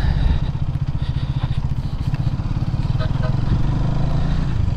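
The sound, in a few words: Hero XMR 210 motorcycle engine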